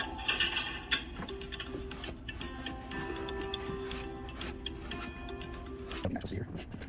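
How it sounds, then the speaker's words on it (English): A nut driver backing bolts out of the rear of a pool motor that has failed, giving quiet, irregular mechanical ticks and clicks close by over a faint steady hum. "We will now use our nut driver to remove the bolts on the rear of the motor."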